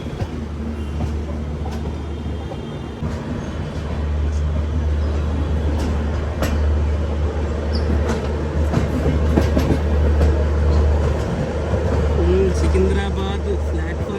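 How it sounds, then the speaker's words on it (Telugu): An Anakapalle–Secunderabad special fare express train, number 07056, rolls into Secunderabad Junction platform 1, a steady low rumble with rail clatter and occasional sharp clanks building slightly louder midway, with people talking over it. "సికింద్రాబాద్ ప్లాట్ఫామ్ నెంబర్ 1కి ఇచ్చారండి మన బండి"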